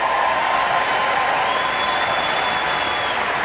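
Members of Congress applaud and cheer at the State of the Union, a loud, continuous roar of clapping and crowd noise in a large chamber that stays steady throughout.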